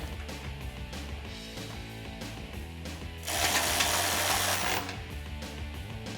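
A ratchet with a socket tightens a nut on a stud while a Barricade Extreme HD front bumper is installed on a Jeep Wrangler JK. Steady mechanical clicking runs throughout, with a louder, harsher burst of ratcheting in the middle.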